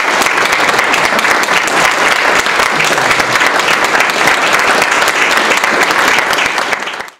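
An audience claps loudly and steadily in a dense, sustained burst of applause that fades out at the end.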